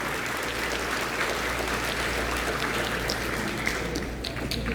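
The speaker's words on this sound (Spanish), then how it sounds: "Aplauso de nuevo para Ruth en su foto respectiva." An audience bursts into sustained applause at an academic presentation on metal oxides and antimicrobial properties, a dense, even wash of clapping hands lasting nearly five seconds with no speech over it.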